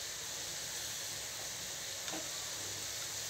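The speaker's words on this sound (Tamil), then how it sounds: "பாருங்க நல்லா ஃப்ரை ஆயிட்டிருக்கு" Maida biscuits deep-frying in oil, a faint, continuous even sizzle with one brief soft tap, heard alone and steady throughout.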